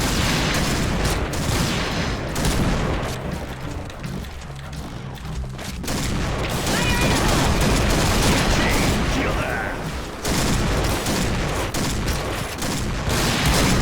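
Bursts of gunfire fill a round of the shooter game Point Blank, loud, rapid volleys that come and go, with a brief lull in the middle, while a player talks over the action.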